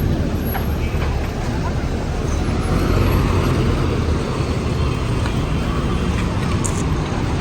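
Dense road traffic backed up where the road has been closed, with buses, cars and trucks idling and rumbling in a steady, continuous wash, occasional air-brake hiss, and people talking faintly throughout.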